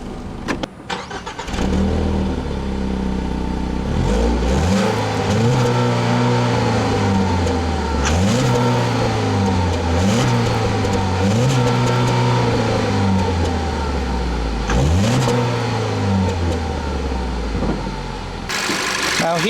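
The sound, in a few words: Ford Focus 2-liter 4-cylinder engine running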